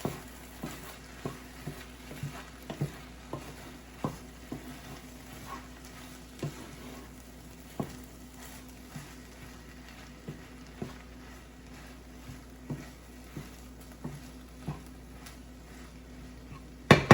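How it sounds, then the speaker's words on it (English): A spoon scrapes and taps against a cooking pan while unstuffed peppers are stirred, giving soft, regular clinks over a low, steady sizzle, with no voice. "we're gonna go ahead and check on our unstuffed peppers and give that a mix"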